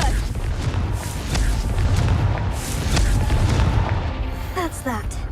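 In the Hogwarts Legacy video game, a Confringo spell sets off booming fiery blasts with low rumbling bursts and crackling debris. Loud explosions come one after another, layered under game audio and spoken voices.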